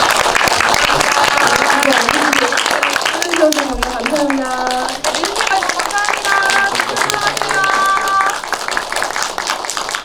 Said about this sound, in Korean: 마지막으로 큰 박수 한번 더 부탁드립니다.